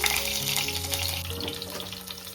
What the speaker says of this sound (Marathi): चला तेल गरम झाले. आता आपण लसणाच्या पाकळ्या टाकू मस्त फ्लेवरसाठी.